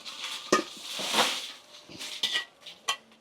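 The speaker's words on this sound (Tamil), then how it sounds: "இப்போ கொஞ்சமா எண்ணெய் விட்டு வதக்கிட்டு போடுறது." Chilli spices being stirred in a little oil in a pan for a Jaffna-style chilli powder: metal spoon scraping and clinking against the pan in irregular strokes with a faint frying hiss, close by, no speech.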